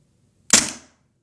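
A WE-Tech G27 gas blowback airsoft pistol fires a single sharp shot, close and loud, with a quick fading tail and silence around it.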